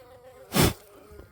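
A honeybee (Apis) buzzing close past a hive box during beekeeping work, a loud brief drone swelling and fading within about a quarter second against a quiet background, no voices.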